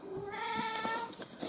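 A pet cat meows indoors in a single long, drawn-out call that rises and falls, fairly faint and slightly distant, with no talking.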